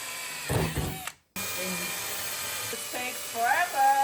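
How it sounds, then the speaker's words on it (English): A high-pitched electric drill whirs in short bursts drilling holes in a basement, close by, with brief pauses between runs. "now we can drill the holes"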